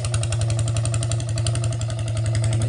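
A boat's engine cranked on its starter chugs into a fast, even, heavy knocking rhythm, loud and near, running steadily without pause.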